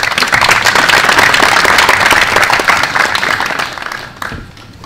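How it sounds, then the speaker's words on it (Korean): An audience at the opening ceremony of a Korean Cultural Centre breaks into sustained applause, dense clapping from many hands that holds steady, then thins out and fades toward the end. "큰 박수 부탁드립니다."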